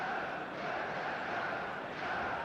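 Stadium crowd noise from the football video game eFootball rises as a steady, distant roar of many voices, fairly faint and even for the whole stretch.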